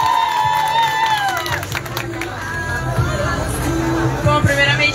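A crowd cheers and claps at a live birthday celebration for a girl turning 17, with shouts and whistles rising over the applause while voices carry across the room.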